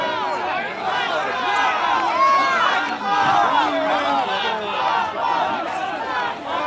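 A large rally crowd chants and shouts in unison about Michigan governor Gretchen Whitmer, a dense, continuous roar of many voices with rhythmic swells, heard from within the crowd.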